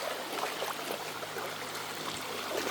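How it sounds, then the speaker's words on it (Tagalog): A rain-swollen creek rushing strongly, a steady broadband wash of flowing water heard close and continuous throughout, with no voices over it. "ito nga pala mga kap, ang sitwasyon ng ating sapa. So, nag-uulan, kaya malakas siya"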